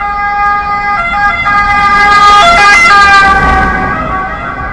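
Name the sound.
siren alarm in the morning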